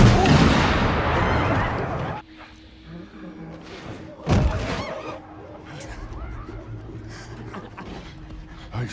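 Pistol gunshot in a film scene, a sharp loud crack standing out from a dense soundtrack mix with thuds and background movement, a single shot midway through.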